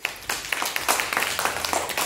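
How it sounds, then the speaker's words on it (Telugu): Young children in a kindergarten number lesson clap their hands in quick, slightly uneven rhythm, a run of bright, close claps of moderate loudness. "క్లాప్స్ కొట్టండి"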